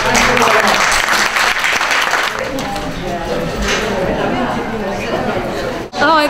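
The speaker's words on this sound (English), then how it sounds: "We can give Dr. Seebacher a round of applause." An audience claps loudly and steadily after a presentation at a medical conference on knee procedures, with some crowd chatter mixed in. The applause thins slightly near the end.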